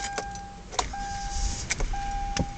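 A 2011 Kia Sorento that has struggled to start, heard near a Walmart storefront: a chime dings while several sharp clicks and clunks sound over a low engine rumble, close and moderately loud, with no voices.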